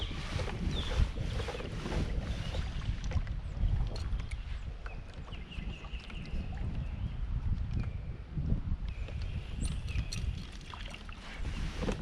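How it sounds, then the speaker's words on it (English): Strong, gusty wind batters the microphone on a kayak fishing trip on Watts Bar Lake, a steady loud roar and rumble with light water splashing against the hull throughout. "The wind's just too strong."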